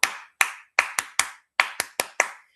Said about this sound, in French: je vous demande d'applaudir, de donner une acclamation à la manière Edmark International